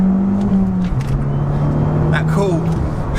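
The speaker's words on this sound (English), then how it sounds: "We've got a lot of road noise." Steady road roar inside an Abarth 595 Competizione with its sound deadening and interior trims stripped out, a continuous low drone and tyre rumble under someone talking throughout.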